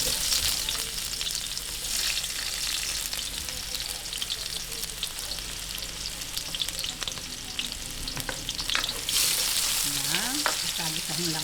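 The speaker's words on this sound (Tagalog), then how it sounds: "Ngayon, umpisahan na po natin ang paggigisa." Ground meat and vegetables for bean-sprout lumpia sauté in a pan, giving a continuous close sizzle and crackle with intermittent scraping stirs that swell louder near the end.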